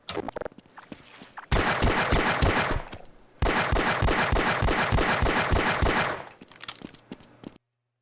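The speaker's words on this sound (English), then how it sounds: "Thank goodness Gordon is such a good shot" Rapid automatic gunfire from the video game Half-Life, in two long loud bursts of fast repeated shots separated by a brief pause, with scattered single shots before and after.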